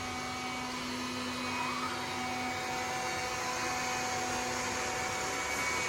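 iRobot Scooba mopping robot whirring steadily as it runs over a thick glob of mustard, a constant close motor drone with a thin high tone and slight slipping variations throughout.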